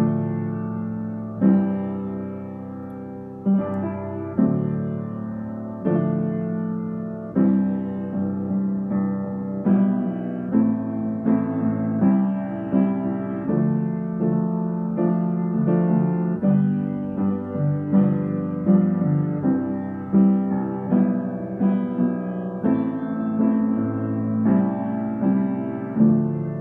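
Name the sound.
piano playing intro of a song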